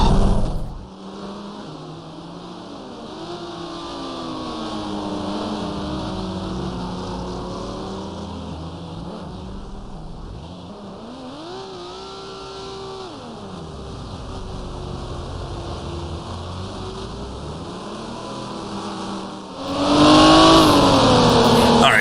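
A race car in GT Racing 2002 drones steadily under throttle, its engine pitch rising and dipping through a long sideways slide before a loud burst of engine and tire noise swells at the end.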